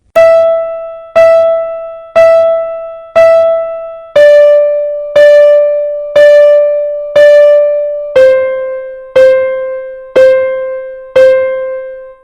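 Crotchet notes sounded one count each on a clear keyboard tone, twelve even strikes about a second apart, in three groups of four that step down in pitch, each note decaying quickly before the next, no voices.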